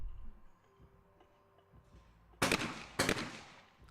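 Two close, loud shotgun blasts about half a second apart ring out at a women's junior skeet event at the 2018 European Championship in Leobersdorf, Austria, as a reverse double is shot. Quiet ambience comes before the shots.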